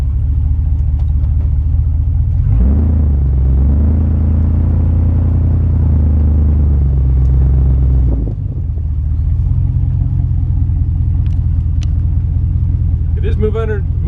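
A 1968 GMC truck built on a 2500HD chassis rumbles at a deep idle, then its engine swells louder and heavier for several seconds as it is put in drive and moves under its own power before dropping back to idle; talk follows briefly.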